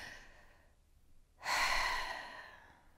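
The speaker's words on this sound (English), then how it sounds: "I'm gonna guide us through 3 deep breaths right now." A person takes a deep breath during a guided breathing exercise: a soft drawn-out inhale, then a louder, airy exhale that fades away, close to the microphone with no talk.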